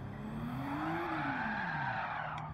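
A race car in Gran Turismo 7 skids and spins out, tires squealing in a rising-then-falling arc over a steady engine drone, loud and close throughout.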